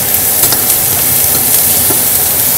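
Mutton fried rice with onion and tomato stirred in a hot pan, a loud continuous sizzle with soft stirring scrapes, close and without voices.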